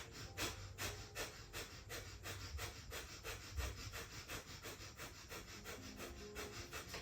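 Rapid, rhythmic breath of fire yoga breathing, quick forceful exhales about three per second, steady and close but quiet, with no talk.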